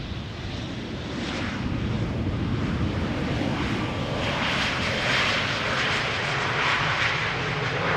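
An Embraer jet arriving at Amsterdam Schiphol Airport, a continuous broad engine roar mixed with wind rumble, steady and fairly loud throughout with no talking.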